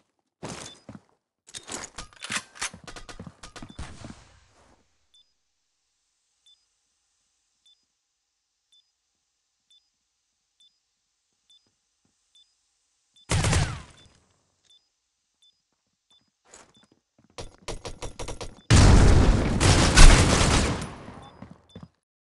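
Shooter-game round with a planted bomb: faint periodic beeps tick steadily through a quiet stretch, while bursts of loud gunfire crackle at the start, once in the middle, and in a long heavy volley near the end.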